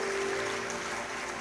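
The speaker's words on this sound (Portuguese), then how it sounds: "Dá um aplauso para os atores aqui que são fantásticos." A church congregation applauding the actors after a performance, steady dense clapping filling the room at even volume, with a faint sustained tone underneath.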